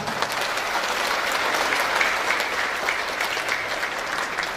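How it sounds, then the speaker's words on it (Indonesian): A large crowd at a mass Quran completion gathering of the Tiga Serangkai martial arts group in the Jakarta area applauds. The clapping is dense and sustained throughout, with no voices over it. "Tepuk tangan juga untuk Pak Risman."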